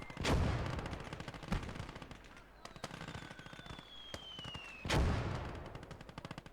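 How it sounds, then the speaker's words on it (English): Mortar and machine gun fire in the World War II strategy game Call to Arms: Gates of Hell, with dense rapid automatic bursts and two heavy booming blasts, one early and one near the end, plus a shell whistle overhead. "Good, so the mortar's now opening up."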